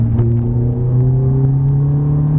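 Ferrari F430 accelerating hard around a circuit, a loud, steady engine drone close by that holds its rising pitch through the whole stretch.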